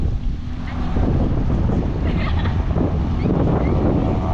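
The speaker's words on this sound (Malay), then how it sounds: "Angin" Strong wind buffets the microphone at an outdoor athletics meet, a steady loud roar with gusts and faint distant sounds underneath.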